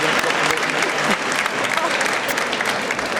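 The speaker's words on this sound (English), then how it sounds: "That's worth a round of applause." A crowd applauds steadily, the dense, loud clapping filling the full three seconds without a break or a fade.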